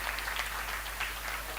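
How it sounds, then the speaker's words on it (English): An award ceremony audience claps and cheers for a winner, a dense, steady wash of applause from a large crowd that holds evenly throughout. "Can you have a loud cheer for her?"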